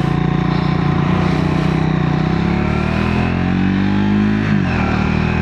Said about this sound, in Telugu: సో చాలా క్లీన్గా రెవ్ అవుతుంది.